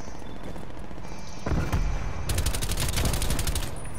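Rapid bursts of gunfire and sharp sniper shots crackle through a Call of Duty Black Ops Cold War match, loud and dense for several seconds with no talk over them.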